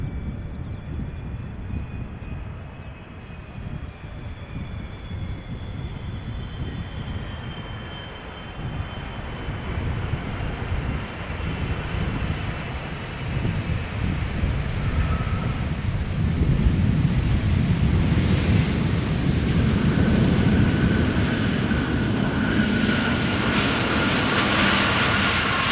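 A jet airliner landing at Schiphol Airport, its engine roar building gradually from a distant rumble to a louder, fuller drone with a rising whine near the end, heard alone without voices.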